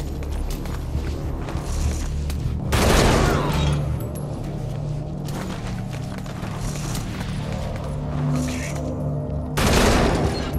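Gunshots in Metal Gear Solid 5 gameplay: loud bursts of firing at the start, middle and end, with sharp cracks and scattered shots in between over a low ambient rumble.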